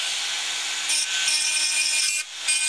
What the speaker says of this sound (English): I'm just going to use a little dentist burr on a sort of a high-speed tool,